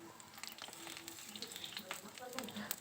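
Eggplant pieces sizzle in hot mustard oil in a pan, a steady close frying hiss with crackles running throughout, faint voices in the background.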